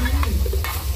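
Pad thai noodles with bean sprouts are stir-fried in an iron wok at a Thai market stall, sizzling steadily with quick scraping stirs heard up close.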